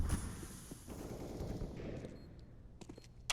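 Gunfire in the video game Counter-Strike during a professional match, a quick burst of shots up front followed by a quieter tail of sharper reports, heard alone without commentary.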